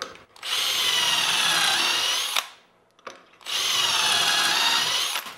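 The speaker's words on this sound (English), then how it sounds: "And drilling the holes." Power drill boring pocket holes through a three-and-a-half-inch wood stile clamped in a pocket-hole jig for wainscoting; two loud, close, steady whining bursts of about two seconds each, separated by a short pause.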